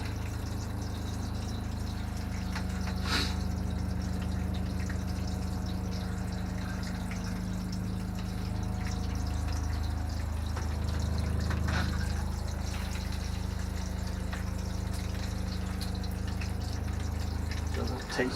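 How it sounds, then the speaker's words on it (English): Water runs steadily from an RV shower head after the valves are opened during de-winterizing, a soft continuous hiss over a low pump hum with occasional faint knocks. "Open up the valves here for the shower head"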